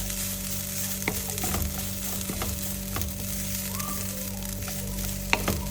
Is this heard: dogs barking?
no